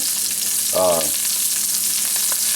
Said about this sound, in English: these are getting to the point now where the bacon is getting crispy